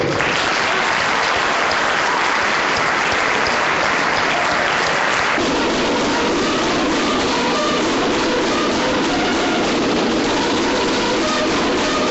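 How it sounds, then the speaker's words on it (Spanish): A crowd applauds steadily, dense clapping filling the space, growing fuller and brighter partway through and carrying on to the end. "Yo les pido a todos ustedes un aplauso muy caluroso"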